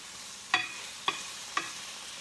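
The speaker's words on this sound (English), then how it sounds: "Cook this chicken up until it gets a little bit brown." Chicken browns in a pan with green onion and peppers, giving a soft, steady sizzle broken by three sharp stirring scrapes at even intervals, close and quiet.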